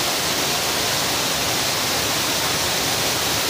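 Waterfall of water pouring out of a mountainside near a cave, a loud, dense, unbroken roar that fills the whole stretch with no variation and no voices.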